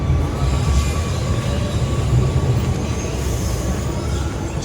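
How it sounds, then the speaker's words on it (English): A train arriving at a station rumbles steadily nearby, a continuous low roar of rolling carriages with faint high squeals and no voices. "Train arrived"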